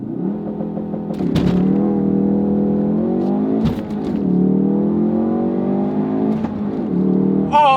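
A Ford Focus RS launches with launch control and accelerates hard, climbing through gears with rising whines and brief shift breaks, loud and nearby with no talking.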